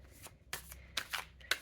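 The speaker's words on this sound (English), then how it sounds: "So I am going first to shuffle the tarot one." Quick bursts of tarot cards being shuffled, several crisp riffles close to the microphone with short pauses between them.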